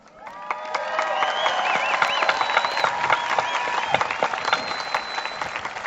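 Audience applauding at a high school graduation ceremony, a steady wash of clapping from a large crowd that holds at full strength throughout, with scattered whistles and faint cheers rising above it.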